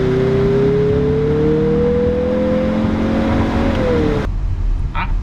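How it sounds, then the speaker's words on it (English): A 2023 Mazda CX-50 Turbo Premium Plus in sport mode accelerates at full throttle, its engine note climbing steadily and loudly from inside the cabin before a sudden upshift drops the pitch. "Put it in drive. In 3, 2, 1, go. To the floor, to the moon,"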